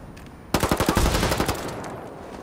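A short, loud burst of rapid automatic gunfire in the Ghost Recon Wildlands PvP mode: about nine quick shots in a row, then a fading tail, with no talk.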